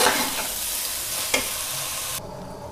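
Rice for veg pulao stirred in a hot pan, a dense close sizzle with one sharp utensil scrape midway, cutting to near quiet shortly before the end.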